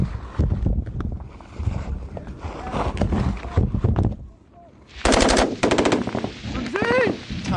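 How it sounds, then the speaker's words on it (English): Heavy machine gun fire in combat against Taliban positions, loud bursts of rapid shots in the opening seconds and again in dense volleys near the end, with shouting voices mixed in between. "but by now their positions are under intense fire"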